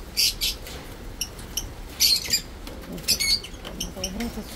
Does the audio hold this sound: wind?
no